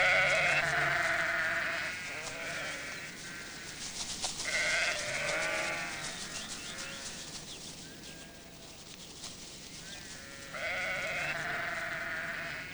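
A flock of sheep bleats repeatedly near a shepherd's pen, with overlapping calls close by and moderately loud, some longer cries against a steady outdoor background, and no talking.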